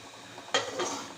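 A lid is lifted off a steaming pot of soft Kerala vattayappam, giving a sudden metallic clank followed by a brief rush of steam, close and fairly quiet in an otherwise still kitchen.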